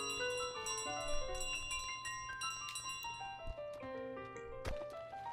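In Untitled Goose Game, a bell rings in a series of clear metallic strikes with ringing tones that overlap and fade. Softer taps and thuds from the game sit underneath at a quiet level.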